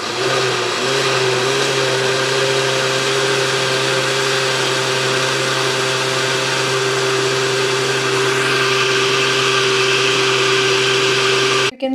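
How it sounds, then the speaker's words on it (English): A kitchen blender runs steadily, grinding tomato sauce seasoned with Italian herbs into a thick paste, its loud whirring motor holding one even pitch throughout, with no voices. "So let's grind it to make it a paste."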